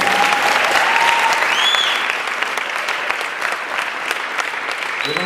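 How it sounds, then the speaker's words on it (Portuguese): A church congregation applauds during a sermon, a dense, loud and steady wash of clapping that fills the room, with a few faint whistles or cheers rising above it. "Nossa, palmas ao Senhor."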